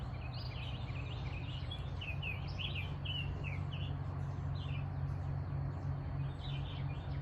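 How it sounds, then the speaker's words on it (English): Several birds chirp and twitter at a distance over a steady low hum, their short calls scattered throughout. "And the birds are singing."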